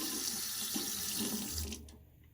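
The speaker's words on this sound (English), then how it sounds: "Let me add a bit water." Tap water running steadily to wet shaving soap, a close, bright continuous splash that stops abruptly near the end, leaving a quiet hum.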